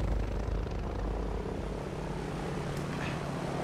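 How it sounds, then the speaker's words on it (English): V1 flying bomb from the game Battlefield 5 passing nearby: a steady, loud droning engine roar holds throughout without pause, with no talk over it. "I hear a plane near me. No, it's a V1."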